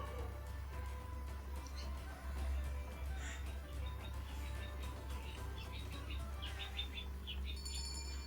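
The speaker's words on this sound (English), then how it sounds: "Some loud birds outside." Loud birds chirp outdoors in a scattered run of high calls that grows busier toward the end, set against a steady low hum.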